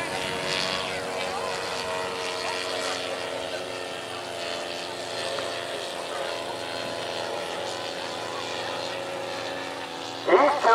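Two radio-controlled Pawnee crop duster model planes with 111cc DLE gas engines fly at a rally, their engines droning steadily with shifting pitch and a brief louder burst at the end.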